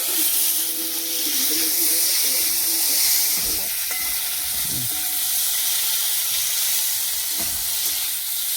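Chopped tomatoes drop into a frying fish curry, setting off a continuous close sizzle with a few scraping stirs and clinks of a utensil against the pot.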